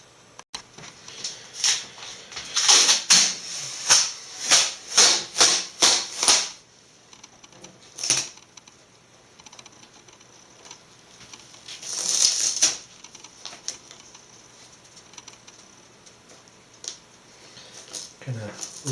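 Masking tape is pulled and pressed onto a Dell Inspiron One 2320 all-in-one case: a quick run of crisp ripping strips, then a pause and another tearing burst, close up and alone.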